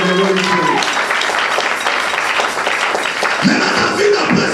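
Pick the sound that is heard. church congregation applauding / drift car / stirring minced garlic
church congregation applauding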